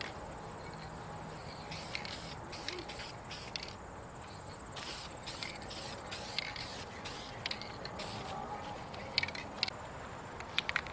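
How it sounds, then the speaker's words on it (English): Adhesion promoter sprayed from an aerosol can onto a valve cover in a series of short hisses with gaps between them, faint over quiet outdoor background noise with insects. "Let's hit it with another coat of the adhesion promoter."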